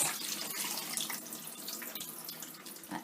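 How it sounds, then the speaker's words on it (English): Raw prawns rinsed in a metal colander under a kitchen tap, a steady close hiss of running water splashing over the shellfish, no voices. "So I'm going to just put them in the colander, rinse them around,"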